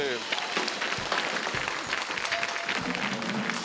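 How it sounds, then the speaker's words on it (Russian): Studio audience at a televised Russian lotto draw in 1998 breaks into hearty applause, a dense steady wash of clapping that fills the hall from start to finish. "ваши бурные аплодисменты"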